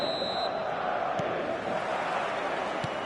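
A large crowd roars steadily inside a stadium on a clear evening before a football match, a dense continuous wash of voices with no clear individual words.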